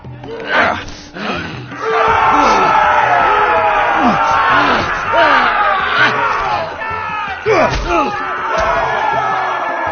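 A large arena crowd in the Game of Thrones Telltale video game roars and cheers loudly and continuously, swelling and surging in waves, with voices of characters speaking over the din.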